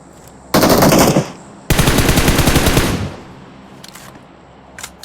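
Loud bursts of automatic gunfire in BGMI, a battle royale mobile game: two long rapid strings of shots, the second lasting over a second, followed by a few faint distant pops.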